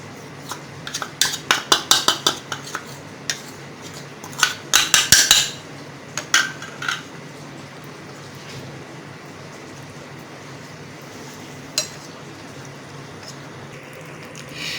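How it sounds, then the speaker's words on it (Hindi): A spoon stirring cornflour into chicken stock in a metal pot, close clinking and scraping strikes bunched in quick bursts over the first seven seconds, then fading to sparse taps against low background noise. "ये 2 चम्मच तकरीबन मैंने कॉर्नफ्लोर यखनी में मिक्स करने लगी हूँ।"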